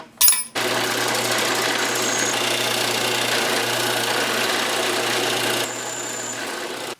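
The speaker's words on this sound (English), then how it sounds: "Drill a better hole." A drill bores a hole through an aluminum knife scale for a Cold Steel Voyager build, a steady close whine running for several seconds after a short burst at the start, easing slightly near the end.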